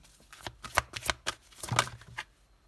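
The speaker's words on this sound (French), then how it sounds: "on va prendre une carte de l'amour universel" A deck of tarot cards being shuffled by hand, a quick run of crisp riffling flicks and soft slaps close up, with no talking.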